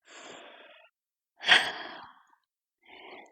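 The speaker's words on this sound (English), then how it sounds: "Deep breath." A person breathes deeply during a Pilates session, with a long exhale, then a fuller, louder breath, then another softer one. The breaths are close and clear and are separated by silence.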